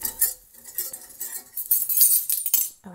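Whisk scraping and clinking against a pan as melted butter is stirred, quick irregular metallic taps and swishes up close for a few seconds, with no talking.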